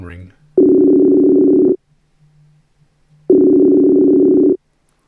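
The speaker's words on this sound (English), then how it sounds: "the old phone ring." A Facebook video call rings out with two long, loud electronic ringback tones about a second each, separated by a quiet gap with only a faint hum, in the style of an old phone ring.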